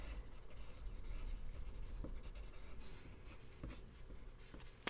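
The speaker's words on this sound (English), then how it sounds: "Circle motion is the best way to get a lovely smooth finish to your pencil colors." A colored pencil shades paper in small circular motions while drawing a mermaid's skin tone. The soft, steady scratching is close and quiet and continues without pause. No one speaks.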